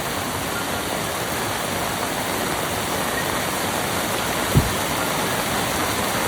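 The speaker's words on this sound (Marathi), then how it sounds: "वरचा वॉटरफॉल आहे ना तिथला" A waterfall on a cliff near a Konkan village pours with a steady, dense roar of rushing water, constant and fairly close, with one faint knock partway through and no talk.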